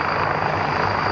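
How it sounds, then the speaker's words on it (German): Military helicopters, H-145M LUH, NH-90 and CH-53, landing at an air show display, a loud continuous rotor and turbine roar close by with no pauses. "The LUHs, the NH-90 and the CH-53 now all land directly behind the transport aircraft."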